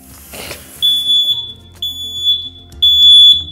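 A Google Nest Protect smoke alarm sounds three loud, high-pitched electronic beeps in an even rhythm, each tone held about half a second and separated by short gaps, alone with no talk.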